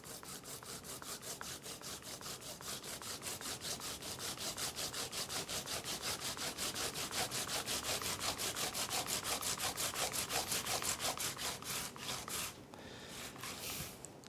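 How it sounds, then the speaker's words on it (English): A turnip with its skin on being grated by hand: steady, rapid rasping strokes in a continuous rhythm, close and fairly quiet, with a brief pause near the end, no talk. "the grind the turnip with the skin."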